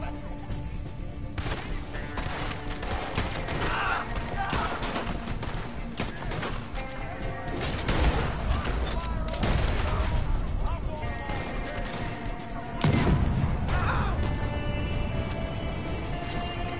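Gunfire cracks in Red Dead Redemption 2 during a Moonshiner role mission, scattered shots and bursts ringing out over several seconds, with voices talking through them.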